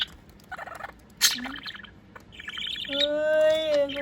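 A budgie chirps close by in a quick run of bright, short tweets, then gives longer warbling, whistled notes that rise toward the end.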